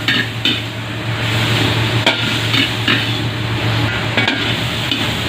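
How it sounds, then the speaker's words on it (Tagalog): Chicken wings sauté with lemongrass and chili in a pan, a steady loud sizzle with periodic scraping stirs and clinks of a utensil against cookware, close and continuous. "Gisa lang natin."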